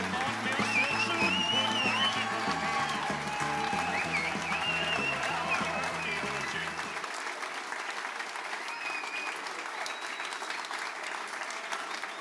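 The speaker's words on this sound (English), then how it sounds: "Y'all might want to wait till I'm done before you clap." An audience at a Veterans Day rally in Neenah applauds in a dense, continuous burst of clapping with some cheering, lasting the full stretch, while music plays underneath during the first half before dropping out.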